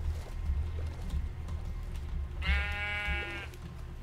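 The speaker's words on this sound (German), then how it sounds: "Gut, das Schaf, das tut mir nichts," A sheep in the video game Minecraft gives one clear, wavering bleat lasting about a second, rising above a steady, rumbling background of game sound.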